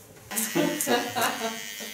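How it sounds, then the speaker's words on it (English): A small electric hair clipper works a design into a shaved nape, heard as a close, buzzing motor whose pitch and loudness waver as it moves over the hair, with a voice briefly audible underneath. "with a small clipper I'm going to work the tattoo in."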